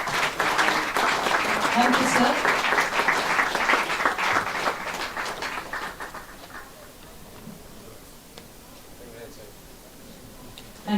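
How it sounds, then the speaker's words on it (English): Audience applause for international guests at an industry conference, loud and sustained at first, then thinning and fading over the clip, with a brief spoken thanks near the end. "A huge round of applause for them."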